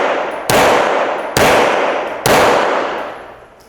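Three loud, close gunshots from a Canik Rival pistol fired at 7 yards, spaced roughly a second apart, each sharp crack followed by a long ringing decay, with no talk.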